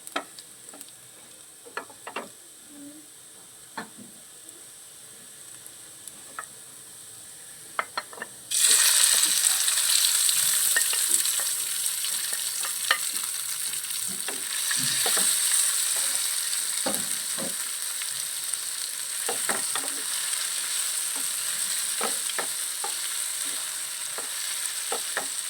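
Capsicum hits a pan of hot garlic and breaks into a loud, steady sizzle after a quiet stretch of faint ticks and spoon taps, with occasional stirring clicks over the frying.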